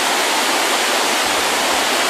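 A multi-tiered waterfall roughly ten metres high at Wat Tham Mueang pours in a steady, loud, broadband roar that fills the whole stretch with no voices.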